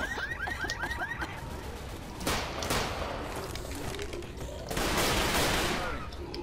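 Bursts of rapid gunfire from the zombie shooter game Left 4 Dead 2 fill the scene, dense volleys and shots layered over game noise and chirping effects, loud and close with brief lulls between.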